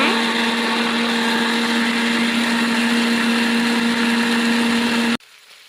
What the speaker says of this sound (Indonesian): Kita blender sampai halus ya.